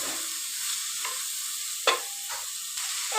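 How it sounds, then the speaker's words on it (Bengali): Spices fry in a pan for a fish curry of yardlong beans and potato, giving a steady soft sizzle with a few sharp scraping stirs, close up and without talk. "এখন আমি মশলাটাকে ভেজে নিচ্ছি"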